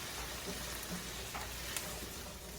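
Drained, rinsed cannellini beans are stirred into a pan for penne with artichoke hearts and sun-dried tomatoes. They make a steady, quiet sizzle with a few soft scraping and clinking stir sounds, and nobody talks.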